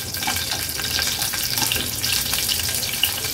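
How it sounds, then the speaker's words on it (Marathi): Hot oil sizzles and crackles steadily as curry leaves hit the pan over a low flame, a dense, hissing fry with small pops throughout. "लो फ्लेम वर फोडणीला कढीपत्त्याची पानं घालते।"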